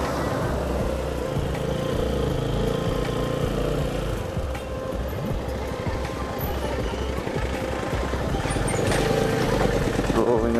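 A motorbike engine runs at a steady low rumble on a road near a border crossing as the rider pulls over to stop, loud and continuous throughout, with traffic noise around it.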